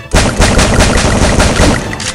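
Shotgun fire in the Free Fire video game, a rapid series of loud, close blasts repeating steadily for about two seconds.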